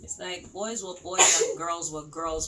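A single sharp sneeze bursts out mid-conversation, loud and close, with people talking before and after it.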